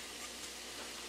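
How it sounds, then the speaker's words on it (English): Garlic and coriander seeds sizzle in a hot pan for a Caribbean cumin shrimp dish, giving a steady, faint hiss of frying with no voices. "I've got a nice little sizzle going on"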